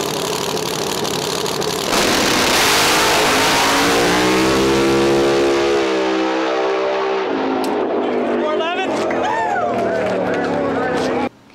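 Corvette C7 Outlaw 10.5 drag car engine roaring loud and close, revving up with a rising pitch, then dropping back to a rough, lumpy idle with crackles before cutting off abruptly.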